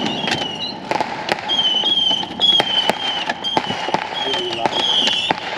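New Year's fireworks fired from a ground cannon on a street, with repeated sharp bangs and crackling bursts at irregular intervals, loud and close, over steady background noise and people talking nearby.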